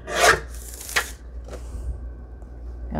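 A paper cutter slices through a book page with two quick, close rasping swipes, followed by a fainter brushing scrape and quiet paper handling.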